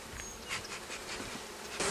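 Dense, steady buzzing from many honeybees in a queen-rearing cell starter, a continuous hum with a few louder swells as individual bees pass close.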